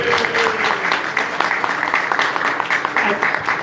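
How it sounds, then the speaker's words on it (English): An audience gives a round of applause for a speaker's friend, dense clapping with a few voices and cheers mixed in, sustained and fairly loud throughout. "Give him a good round of applause."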